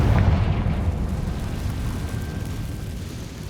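A Confringo blasting spell detonates in Hogwarts Legacy, a loud booming explosion with a heavy low-end burst at the start that rolls off into a long rumbling decay, with no voices over it.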